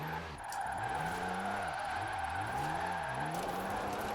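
In Forza Horizon 4, a diesel-engined drift car slides with its tires squealing continuously, while the low engine note rises and falls in uneven, wavering revs beneath the screech, loud and up close, with no talking.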